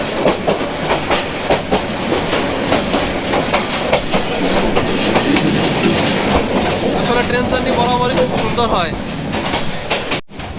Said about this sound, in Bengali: এবারে আমাদের ট্রেনটি ষাট কিলোমিটার গতিতে চলছে